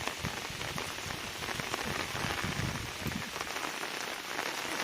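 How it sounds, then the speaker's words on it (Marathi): Dense, continuous monsoon downpour in the Konkan countryside drumming on nearby surfaces and pooled water, loud and unbroken with a thick wash of splattering drops. "खूप मुसळधार"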